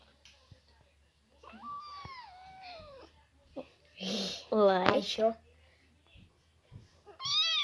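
A kitten gives several clear, rising meows close by, spread across the stretch between moments of children talking and coaxing it.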